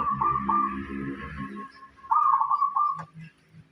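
Local zebra dove (perkutut) of the muncis type, a small village bird, calling close by in a few bursts of rhythmic cooing notes with short pauses, alone without talk.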